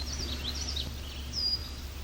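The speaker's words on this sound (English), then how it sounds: "That eep, one of their calls, is a male red-winged blackbird." A male red-winged blackbird gives a thin, high eep call from a distance near Otter Lake, faint over steady low background rumble.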